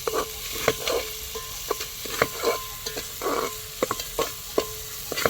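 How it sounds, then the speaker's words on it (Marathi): Onion sautés with a pinch of salt in a pan for a Sankranti bhogi vegetable dish, a soft sizzle under frequent spoon clicks and scrapes against the metal, close and unaccompanied by speech. "छान परतून घेऊया ह्यामध्ये बघा थोडंसं मीठ टाकून घेऊया आपण जेणेकरून कांदा लवकर भाजेल"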